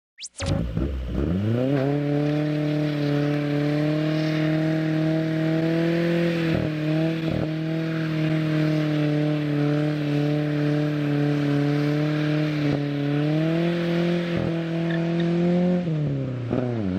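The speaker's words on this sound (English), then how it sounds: "just gonna do a little burnout for you guys" A parked car does a burnout, its engine holding a loud, steady high-revving drone after a quick rev-up, with brief dips and shifts in pitch before easing off at the end.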